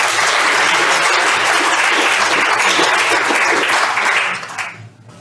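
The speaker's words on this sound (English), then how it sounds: "So if you give a round of applause to John" Audience at a perioperative medicine conference applauding a speaker: dense, steady clapping from a large crowd for about four seconds, then tapering off quickly into quiet.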